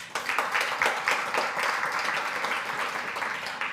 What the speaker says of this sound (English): Let's give a big round of applause to SEPCO.